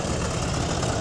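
A bulk cement tanker's engine idles close by in a steady, dense low rumble with constant vibration, running alone without talk for a brief moment.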